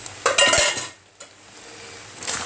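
A spoon clinks and scrapes against a cooking pot while stirring stuffed chard, giving a few quick metallic knocks, then a single sharp tap and quiet, and finally softer rattling.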